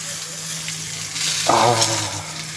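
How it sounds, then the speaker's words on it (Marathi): Rava-coated pomfret frying in a hot pan, a steady soft sizzle with a brief louder crackle midway as the fish is moved and stirred. "तर हे का घेऊया मस्तपैकी परतून"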